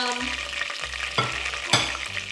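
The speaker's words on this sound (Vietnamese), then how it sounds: "Đây, mình chiên cái phần dưới cho nó vàng luôn" Chicken pieces sizzle steadily in hot oil nearby, with occasional clinks and scrapes of a utensil stirring in the pan.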